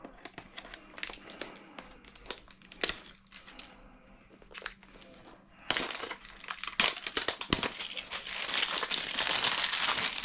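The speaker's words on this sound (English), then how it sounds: "So let's crack open this ESC motor and just take a look at them. Pull this plastic off." Plastic packaging crinkled and torn off a Castle ESC and motor for an RC car: close, loud crackling bursts that come in scattered bunches, then turn denser and continuous in the second half, with no speech.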